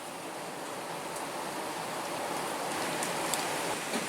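Heavy rain pours in a dense, constant hiss, loud and unbroken, with no voices.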